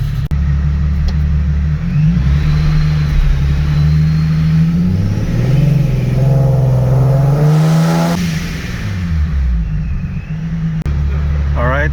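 A supercharged 2019 Nissan 370Z running on a dyno: a loud, close engine drone that rises and falls in pitch through a couple of rev sweeps, with a steady low rumble throughout.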